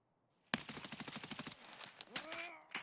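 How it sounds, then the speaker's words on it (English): A player firing an automatic weapon in Escape from Tarkov, a rapid close burst of about a dozen evenly spaced shots, followed by a few scattered louder reports and ringing echoes. "That's you shooting, yeah?"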